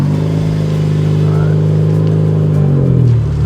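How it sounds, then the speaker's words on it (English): A big-turbo Ford Focus ST with its blow-off valve deleted, engine revving hard through a very loud exhaust, a deep continuous droning roar that holds steady and then drops slightly in pitch at the end. "It's just the exhaust is so freaking loud."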